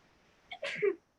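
One quick close sneeze, a short in-breath followed by a sharp burst, heard indoors on its own.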